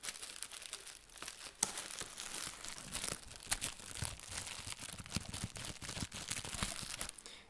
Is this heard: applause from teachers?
no